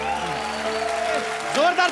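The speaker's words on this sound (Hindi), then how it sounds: "जोरदार तालियां हो जाएं।" The studio audience of The Kapil Sharma Show applauds, a steady bed of clapping heard beneath louder melodic music and a voice.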